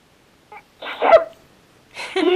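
Talking Julie doll from Worlds of Wonder giving a short electronic sneeze sound, a brief breathy burst followed by a louder snort-like sneeze, then more voiced sound from the toy.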